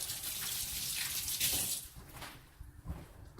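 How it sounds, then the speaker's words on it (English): A beef rump roast rinsed under a running kitchen tap, a steady close hiss and splash of flowing water that thins and turns more broken toward the end, no voices. "now let me rinse this off real quick."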